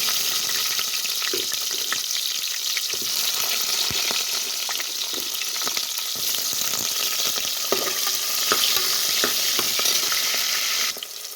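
Chopped onion sizzles in hot oil with mustard seeds and cumin, a steady dense frying hiss with small crackles and pops running close and unbroken throughout.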